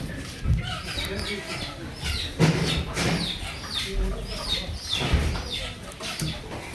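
Many chickens cluck and call together inside a filled poultry shed, a dense, continuous chorus close by with overlapping bursts.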